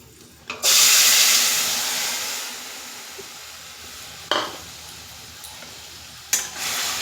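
Pre-boiled pumpkin being stirred in a hot cooking pan, a loud burst of sizzle as it hits the oil, fading into a gentle hiss, with occasional sharp scraping strokes, nearby and without speech.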